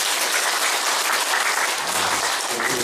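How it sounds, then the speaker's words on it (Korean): An audience at a Buddhist dharma talk by a senior monk applauds steadily, a dense continuous wash of many hands clapping with no pauses, moderately loud throughout. "법문 잘하는 큰 스님께 다시 한번 박수 주십시오."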